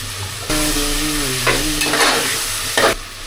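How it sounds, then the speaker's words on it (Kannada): Ginger garlic paste fries in a hot pan for biryani, a loud continuous sizzle with repeated scraping stirs of a spoon against the pan, close up and with no talking. "ಇದಕ್ಕೊಂದು ಸ್ವಲ್ಪ ಶುಂಠಿ ಬೆಳ್ಳುಳ್ಳಿ ಪೇಸ್ಟ್ ಹಾಕೋಣ. 1 ಸ್ಪೂನ್ ಶುಂಠಿ ಬೆಳ್ಳುಳ್ಳಿ ಪೇಸ್ಟ್."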